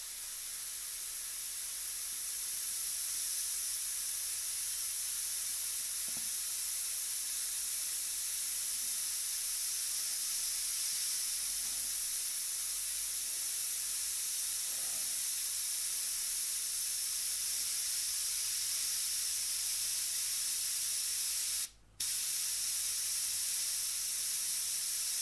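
An airbrush sprays paint onto a portrait in a continuous soft, even hiss that runs steadily through the whole stretch, close and moderate in level, with one brief dropout near the end and no talking.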